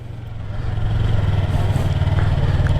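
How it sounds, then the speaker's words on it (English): A Yamaha R3 motorcycle engine pulls away from a stop as the clutch is let out and throttle applied, a steady, loud low drone that swells slightly in the first half second and then holds even, with no talk. "Slowly let off the clutch, give it some throttle, you're good to go."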